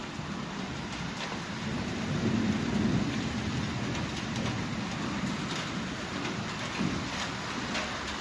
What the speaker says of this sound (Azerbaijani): İldırım çaxır.